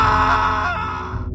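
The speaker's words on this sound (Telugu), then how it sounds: "అప్పుడు సడన్గా పైనుంచి ఒక పెద్ద అరుపు వినిపిస్తుంది." Loud scream sound effect in a ghost horror story, a short, close, wailing cry that holds for about a second and then tails off abruptly.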